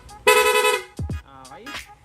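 A rapid horn installed on a Yamaha Aerox V2 scooter with a PIAA horn blares in a loud honk, then sounds again in quick repeated bursts with falling and rising tones, close by in a workshop.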